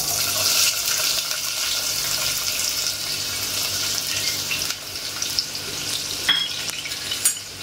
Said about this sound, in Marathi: कांदा आपल्याला छान परतवून घ्यायचा आहे